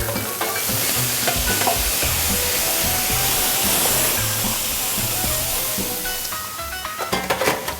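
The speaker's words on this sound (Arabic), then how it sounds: "رح احط شوية زيت زيتون، بحط معه البصل المفروم ناعمة" Finely minced onion sizzles in olive oil in a pan for rice, a steady loud frying hiss with stirring clatter that grows busier near the end.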